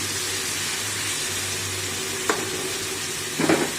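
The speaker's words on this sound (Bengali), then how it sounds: "দেখুন মুরগিটা ভাজা হয়ে গেছে আমি এটা তুলে নেব" Continuous crackling sizzle of chicken frying in oil, close by, with a couple of brief clinks near the end.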